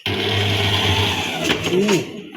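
An electric mixer whirring steadily through banana bread batter, loud and close, its motor pitch wavering near the end as a voice speaks over it.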